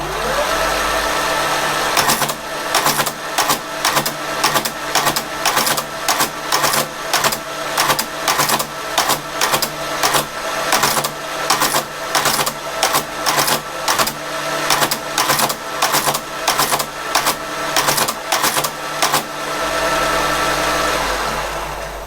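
A Creed 7B Mark 1 teleprinter starting up and printing, its motor whirring loudly while the mechanism hammers out a fast, regular clatter of sharp strikes for about seventeen seconds before falling back to the motor hum.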